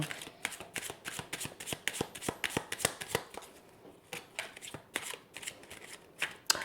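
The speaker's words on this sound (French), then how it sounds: "Et je vais tirer 9 cartes." A deck of Lenormand cards is shuffled and drawn close by, giving a quick run of crisp riffling snaps and soft slaps with a short pause midway, then more shuffling.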